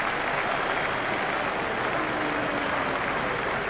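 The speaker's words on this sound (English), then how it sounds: "Crowd are standing to applaud him" Cricket 2002 video game crowd applauding a batsman's half-century, a dense, sustained burst of clapping and cheering, loud and even with no pauses.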